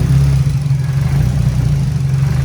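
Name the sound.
turbo Nissan Silvia S14 engine running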